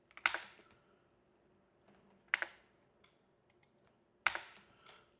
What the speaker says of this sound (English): So I'll type in Momentous.